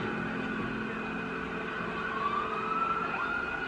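An ambulance siren wails faintly within a song, a thin wavering tone over a steady musical bed that holds throughout.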